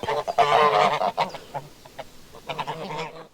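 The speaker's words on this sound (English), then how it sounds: "He's more of a solitary goose" A pet goose on a farm honks loudly in a rapid run of harsh, nasal calls up close, pauses briefly, then gives another burst of honks.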